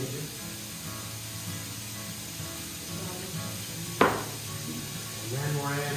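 Garlic and ginger sizzle steadily in a stir-fry pan, with a sharp metallic clank at one point and a stirring scrape near the end, while a voice talks faintly over the hiss.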